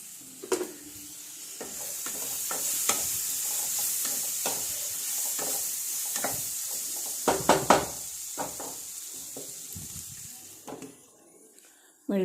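Kaalan curry bubbles in a pot during an Onam gathering while a spoon stirs it, giving scattered scraping knocks over a low, steady sizzle.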